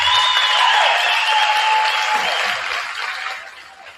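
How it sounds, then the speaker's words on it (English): Loud, continuous applause from a crowd at a high school varsity basketball event, with a faint high tone running underneath, gradually tapering off toward the end. "give these seniors a round of applause"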